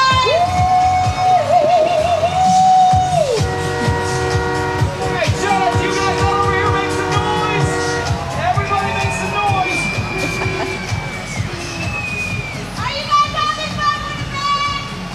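A Santa Claus Parade crowd with many children shouts, cheers and squeals in a loud, continuous roar, with whistle-like tones and vehicle noise mixed in.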